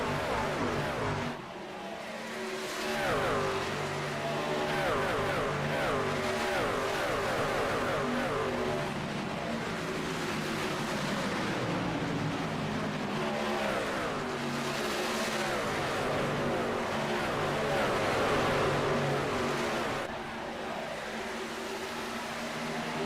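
Simulated race cars in iRacing at Chicagoland Speedway, several running side by side, their engines droning steadily and continuously with shifting pitch as the pack circulates, loud throughout.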